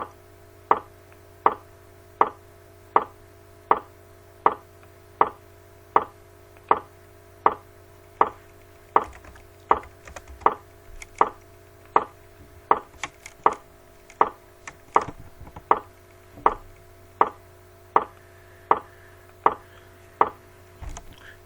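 Loud, sharp raps in a main office, picked up by a CCTV camera: a long, steady series of evenly spaced knocks, about one per second, with a few fainter irregular clicks in the middle, heard without any voices.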